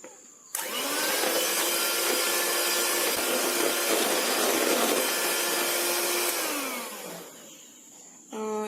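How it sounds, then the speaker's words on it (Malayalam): Electric beater whipping a mixture for chicken samosa dough: a loud steady motor whir starts abruptly and runs for about seven seconds, its pitch dropping slightly as it winds down. "അപ്പോൾ നമ്മൾക്ക് ബീറ്റർ വെച്ചിട്ട് നന്നായിട്ട് ഇതൊന്ന് പതപ്പിച്ചെടുക്കാം."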